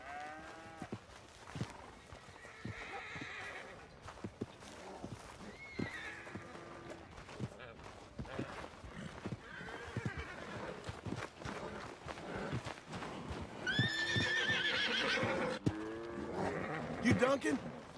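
Horses whinny and neigh several times over a busy background of voices and scattered hoof clops on a ranch in the video game Red Dead Redemption 2.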